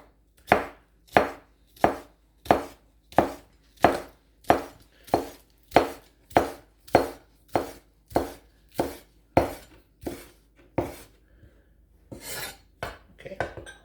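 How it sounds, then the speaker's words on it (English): A kitchen knife chops a scallion into small pieces on a cutting board, about sixteen crisp, evenly spaced strokes close up and alone, followed by a brief burst of softer scraping and tapping. "Chop off the ends. And we'll cut it in small pieces."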